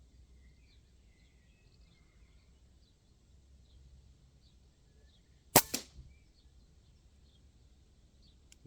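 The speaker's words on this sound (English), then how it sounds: "now we're shooting pellets, JSP monsters" A single sharp shot from an RTI Arms Prophet One air rifle firing a JSP pellet, a close crack with a short follow-up clatter, set against a quiet outdoor background.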